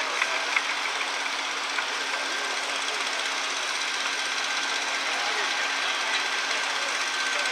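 The six-cylinder engine of an Allis-Chalmers D19 tractor runs at a steady drone at a plowing tractor event in Rantoul, Illinois, an even, continuous hum with faint clatter and no voices over it.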